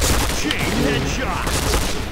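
Rapid gunfire in the online shooter game Point Blank, dense overlapping shots rattling continuously and loudly throughout, with a voice faintly under the shooting.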